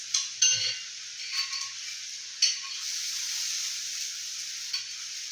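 French toast frying in a pan, a steady bright sizzle close by with a few spatula taps and scrapes as it is turned, no talk.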